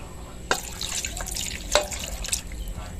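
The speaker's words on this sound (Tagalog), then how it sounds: "Saka lalagyan natin yung tubig." Water poured into a cooking pot while preparing paksiw na tilapia, a soft splashing trickle with a few louder drips and splashes, close and fairly quiet, with no talking.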